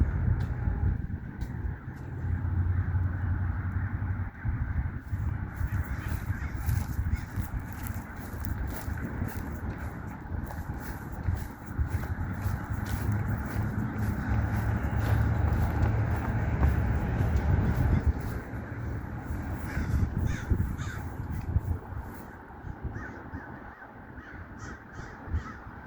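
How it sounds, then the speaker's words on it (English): Crows flying overhead on their way to roost give repeated harsh caws, some close and some farther off, over a steady outdoor rumble of wind and distant traffic. "Crows going overhead."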